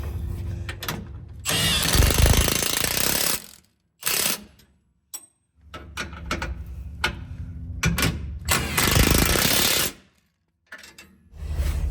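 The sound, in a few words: tightening Jeep Gladiator spare tire bolts with 21mm wrench and socket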